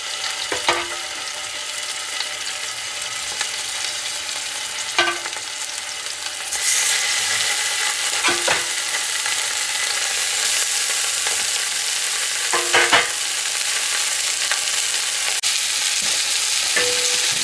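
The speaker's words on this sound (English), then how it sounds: "we're going to cook the beef and brown it on all 4 sides" Beef browning in hot olive oil in a pan, giving a steady loud sizzle throughout, with occasional sharp clinks and scrapes as the meat is turned.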